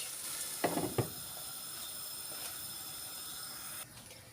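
Stale bread topped with kaşar cheese cooks in a covered pan, giving a soft, steady sizzle and hiss throughout, with a few brief clatters of the lid early on and the sound dulling slightly near the end.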